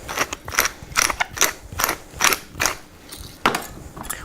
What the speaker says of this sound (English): And a couple good cracks of black pepper.